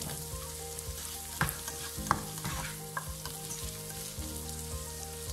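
Onion, green chili and capsicum stir-fry in a pan for Fish Manchurian, giving a quiet, steady sizzle with scattered light scrapes and taps of stirring over a low background hum.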